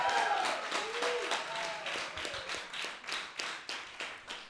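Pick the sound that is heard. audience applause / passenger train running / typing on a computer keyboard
audience applause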